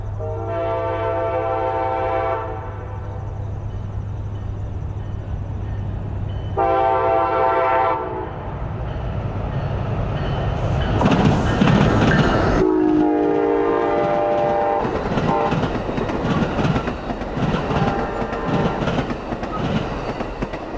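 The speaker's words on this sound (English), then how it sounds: "I headed back to Gilman for southbound Amtrak 391, the Saluki, from Chicago to Carbondale." Southbound Amtrak 391, the Saluki, runs from Chicago to Carbondale and passes on the former Illinois Central mainline at Gilman. It sounds two long horn blasts and then a loud, drawn-out final blast while the train rumbles and clatters by up close.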